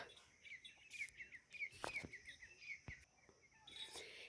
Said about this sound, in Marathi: कोकिळा ओरडते पक्ष्यांचा किलबट्यात